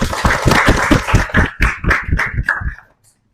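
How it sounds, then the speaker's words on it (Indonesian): Applause for the first student group in a sixth-grade Islamic religious education classroom, a dense burst of many hands clapping at once that fades out after about three seconds. "tepuk tangan dulu untuk kelompok 1"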